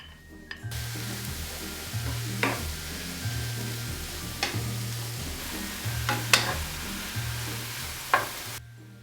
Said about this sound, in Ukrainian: На сковорідці смажу цибулю, печериці, е, сіль спеції за смаком.